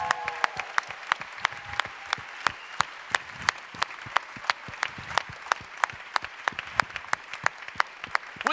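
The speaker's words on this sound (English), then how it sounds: "Keep applauding, keep applauding." An audience at a startup pitch competition applauds a first-place winner, a sustained, dense roomful of clapping with sharp individual claps standing out steadily throughout and no speech.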